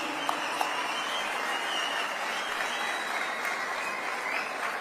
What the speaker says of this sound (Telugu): గట్టిగా ఒకసారి చప్పట్లు కొట్టి all of you appreciate minister now